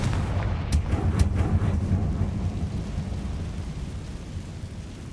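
A fiery Confringo blasting curse explodes in the Hogwarts Legacy video game: a deep, loud rumbling boom with two sharp cracks early on, fading into a sustained low roar.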